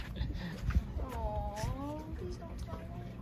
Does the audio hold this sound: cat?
yes